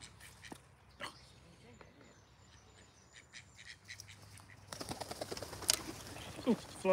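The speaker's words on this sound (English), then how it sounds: "Flying ducks." Ducks at a lake quack and flap into flight amid scattered outdoor noise, with sharper wing and call bursts clustering near the end; the sounds are faint to moderate.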